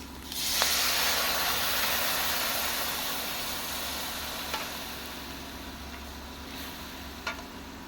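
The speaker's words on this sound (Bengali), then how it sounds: "এটা আমার ঘি দিয়ে ভাজা হয়ে গেছে। এবার আমি দুধ জাল দিয়ে রেখেছিলাম, ওই দুধটা দিয়ে দিচ্ছি" Milk poured into fruit peels already fried in ghee sets off a soft, steady sizzle and hiss in the pan, with a few faint stirring clicks, all fairly quiet and with no voices.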